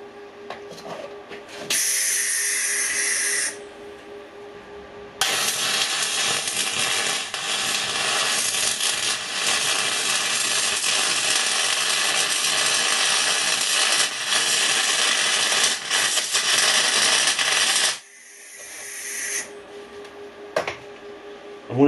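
MIG welding on tacked, wire-brushed 10mm steel plate with 1.2mm wire, using an R-Tech Pro-MIG250-1 welder: a loud, steady crackling hiss runs continuously for about thirteen seconds, bracketed by shorter bursts of noise before and after.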